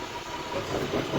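Truck engine running in first gear with the clutch eased out against the set parking brake, a steady low rumbling drone that swells slightly, close and continuous with no voices.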